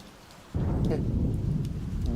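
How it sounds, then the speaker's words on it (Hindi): A thunderstorm during an unseasonal May downpour breaks in suddenly: a loud crack of thunder rolls into a dense, steady wash of heavy rain. "ये बिजली काहे कड़क रही है बे?"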